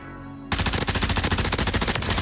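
A glitched Tempest Razorback fires in Call of Duty Warzone as a sudden, loud, rapid automatic burst that rattles steadily after a short quiet lead-in.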